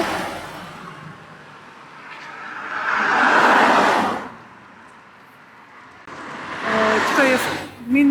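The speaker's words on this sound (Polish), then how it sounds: "Bo tutaj jeżdżą auta, jest głośno." Cars driving along a street in Stegna near the cultural centre and cinema, two passes swelling up loud and fading, with a person talking between and over them.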